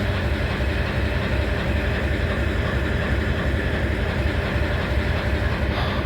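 A BNSF intermodal freight train led by a modified CW44AC locomotive passes close by in Abbeville, South Carolina, a loud continuous rolling rumble with wheel noise that stays even throughout.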